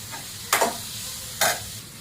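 Onions fry to golden brown in a pan for palak paneer, giving a soft continuous sizzle broken by two brief scraping stirs, close and quiet.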